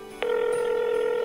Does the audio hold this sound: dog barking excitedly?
no